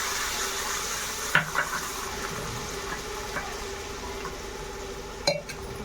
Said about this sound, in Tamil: புளித்தண்ணி ஊற்றிடுங்க.